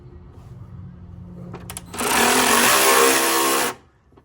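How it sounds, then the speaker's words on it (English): Power tool fitted with a 10 mm socket spinning out timing cover bolts on a 3rd-gen Toyota 4Runner 5VZ-FE V6, a loud whirring burst of under two seconds after a few brief clicks, close up. "with a 10 mil socket, you can take these top 4 timing cover bolts off."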